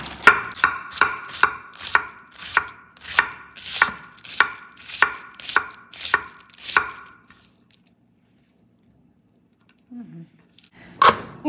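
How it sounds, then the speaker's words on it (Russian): A knife shreds fresh cabbage on a cutting board in about fifteen crisp, evenly spaced chops, close and clear. The chopping stops and is followed by a pause and a few soft handling noises. "И теперь буду эту капусту шинковать."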